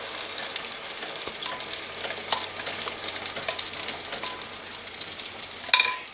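Vegetables fry in oil in an iron skillet with garlic salt, giving a loud, continuous sizzle and crackle throughout, with a brief clatter near the end.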